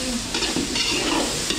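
Pork belly sautéing with garlic and onion in a catering kitchen, a loud continuous close sizzle with repeated scraping stirs throughout, no voices.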